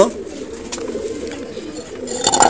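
Soft pigeon coos close by on a rooftop loft, murmuring steadily through the clip, with a brief burst of louder noise near the end.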